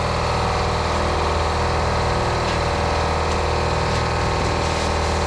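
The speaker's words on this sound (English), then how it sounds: "I don't want to kill the air compressor. I realize it's loud" An air compressor runs steadily, giving a loud, continuous mechanical hum with a low throb that stays constant throughout, with no talking.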